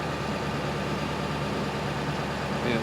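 A 7.3 Powerstroke diesel truck engine idles with a steady, dense low rumble and an even mechanical clatter, close and unbroken, with no voices.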